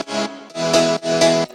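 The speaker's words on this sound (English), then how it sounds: "That's a sidechain. So basically every time the kick hits in the track, the volume of the piano goes down." Layered piano chords ducked by a kick-driven sidechain, the volume dipping and swelling in a pumping rhythm about three times in under two seconds, loud and up front with no voices.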